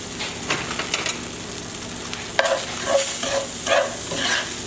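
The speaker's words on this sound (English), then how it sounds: "We're going to toast them with the butter." Panko breadcrumbs toast in melted butter in a pan, giving a steady soft crackle and sizzle with a run of scraping stirs in the second half, close and fairly loud, with no voices.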